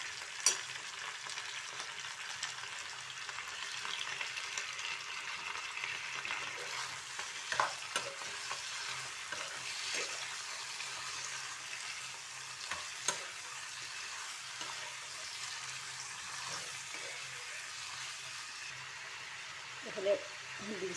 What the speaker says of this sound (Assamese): অলপ ভাজি ল'ম মাংসখিনি